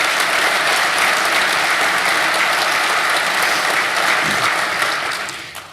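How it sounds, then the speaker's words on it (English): Steady, loud applause from a conference audience for State Police Superintendent Joseph D'Amico at an emergency preparedness event, sustained and even before fading at the end. "Let's give him a round of applause."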